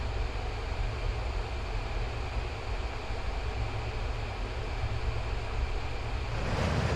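Simulated Avro Vulcan bomber with Olympus 301 jet engines cruising at about 8,000 feet in Microsoft Flight Simulator, giving a loud, continuous roar with a deep rumble that holds steady throughout and swells slightly at the end.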